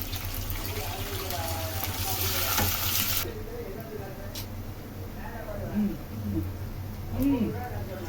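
Ginger garlic paste sizzles in a pan with onions and goat liver for a pepper fry, a loud hiss at first that drops to a softer steady frying under occasional stirring and a talking voice.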